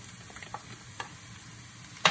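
Chili and turmeric fry in hot oil with a low steady sizzle, a few light utensil taps and a sharper clack near the end, heard close with no talking.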